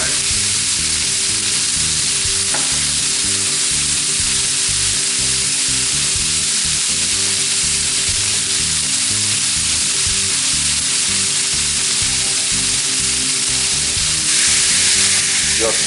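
A venison roast sears in butter and olive oil with a loud, dense, continuous sizzle that crackles steadily throughout and is heard alone, without talking.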